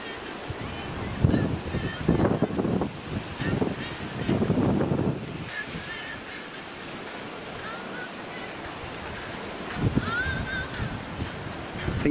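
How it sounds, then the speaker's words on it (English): Wind blows across the Northumberland coast dunes, buffeting the microphone in strong gusts that come early and then ease into a steady breezy rush, with a person talking at times. "Thing is, the wind's pulling it."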